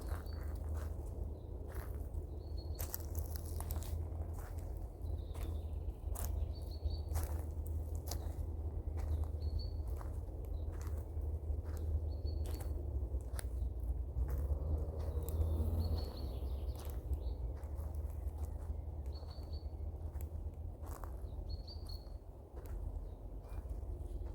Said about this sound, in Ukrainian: І, звичайно, послухаємо птахів.